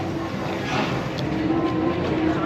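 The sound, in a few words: railroad sound effect played by a Disneyland souvenir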